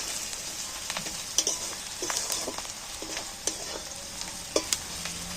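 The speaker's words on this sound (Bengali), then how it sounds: "সেইটাকেও আমি একটু নেড়ে চেড়ে তেলটার মধ্যে ভেজে নিচ্ছি পেঁয়াজের সাথে একসাথে" Onions and spices sizzling in hot oil for an egg dish, a steady bright crackle punctuated by several quick spatula scrapes and taps against the pan.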